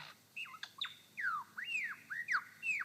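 A lyrebird mimics a crimson rosella with a quick string of clear, bell-like whistles, some rising and others sliding downward. The notes come in close, fairly loud succession without a break.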